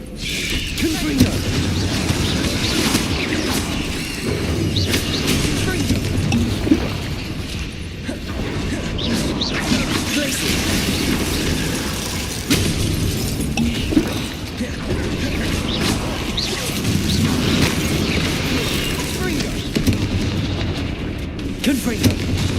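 Blasting-spell explosions and combat effects from Hogwarts Legacy, with repeated booming bursts and mechanical clatter in a busy, continuous mix across the whole stretch.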